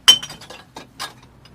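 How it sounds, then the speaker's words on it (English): Glass bottles dropped into a public recycling container in Germany, a quick burst of bright clinks and clattering impacts followed by a second smaller crash and a few faint settling rattles. "throwing away my recycling glass"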